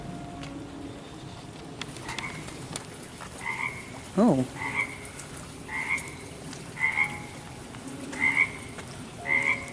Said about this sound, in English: Apparently there's a frog nearby.